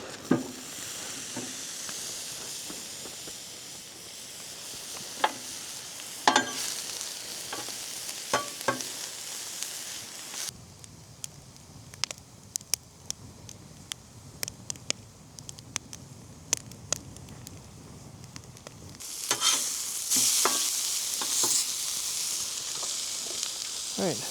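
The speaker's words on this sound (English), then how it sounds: "We'll put the steak down here, I think." Steak sizzles steadily in a pan at a snowy winter campsite, a continuous close frying hiss with scattered crackles and spits, dipping quieter midway before surging again near the end.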